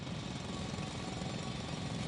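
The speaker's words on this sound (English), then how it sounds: "It's a drill." A very loud drill grinds steadily and continuously through rock, a dense, unbroken roar with no pauses or voices.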